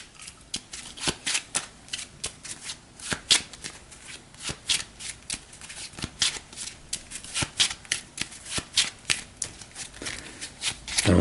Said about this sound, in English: we'll shuffle this up for Hermione